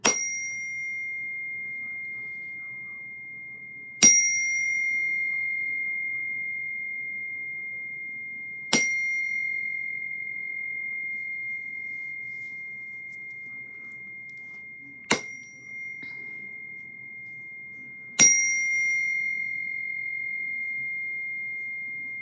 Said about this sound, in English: ring in our sound bell